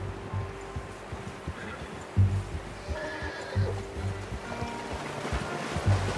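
A horse in the video game Red Dead Redemption 2 whinnies loudly, with clip-clopping hooves and a steady wash of water-like ambience underneath.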